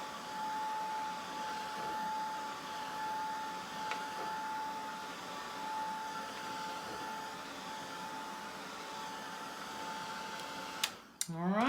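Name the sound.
blow dryer drying chalk paste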